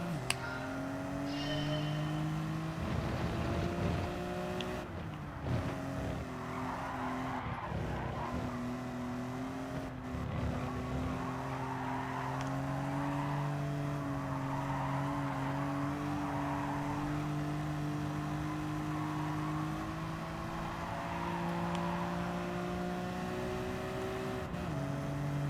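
Racing car engine in a driving video game's time trial, revving steadily with shifting harmonic whine as the throttle is repeatedly stabbed on and off, loud and continuous throughout.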